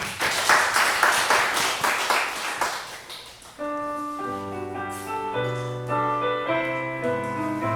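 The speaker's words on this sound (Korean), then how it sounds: "영광의 박수." A church congregation claps steadily for about three seconds after a prayer, then the applause fades as sustained organ or keyboard chords take over.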